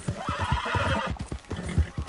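Horse in the video game Red Dead Redemption 2 whinnying loudly and close, with a few clip-clop hoof steps around it; no talking.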